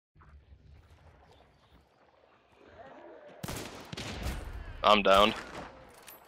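Gunfire in the shooter game Hunt: Showdown: quiet ambience gives way to a cluster of loud shots and a sharp burst near the end, while a player speaks briefly over it.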